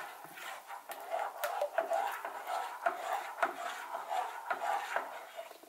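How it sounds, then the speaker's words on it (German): A utensil scrapes and rubs against a pan while spinach is stirred, a series of short rasping strokes in an uneven rhythm, close and fairly quiet with no talking. "Bisschen umrühren natürlich."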